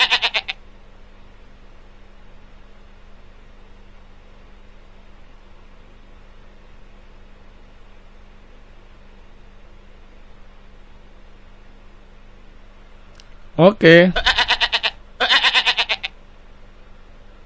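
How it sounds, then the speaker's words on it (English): Goat bleating in the PC game Dora the Explorer: Click & Create: after a long quiet stretch with a low hum, two loud, wavering bleats arrive close together near the end. "It's a goat."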